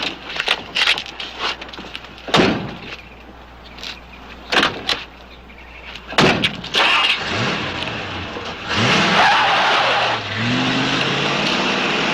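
An older car gets going: doors thump and clunk, the engine starts and revs up, then the vehicle pulls away with a rising engine note and tire noise, loud and close, with no talk over it.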